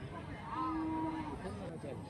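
A cow at a crowded cattle market in Karimangalam, Dharmapuri, gives a single drawn-out moo-like call rising over steady market chatter and background voices.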